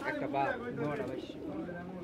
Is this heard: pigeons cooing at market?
yes